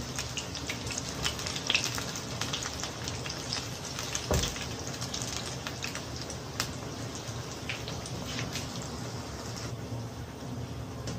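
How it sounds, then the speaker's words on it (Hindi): Pakoras sizzle and crackle in hot oil, a steady faint frying hiss with scattered pops and one sharper clunk, heard alone without talk. "आप चम्मच से पकौड़े डाल सकते हैं।"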